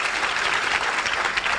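A seated audience applauds to welcome a big decision, a brief burst of dense, steady clapping throughout.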